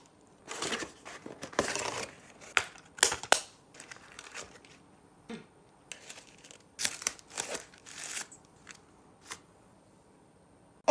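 Packaging for a Transformers Studio Series Gamer Edition 03 War for Cybertron Optimus Prime toy is opened: close, irregular bursts of plastic and cardboard crinkling, crushing and tearing with short pauses between.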